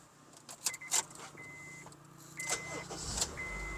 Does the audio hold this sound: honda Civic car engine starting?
yes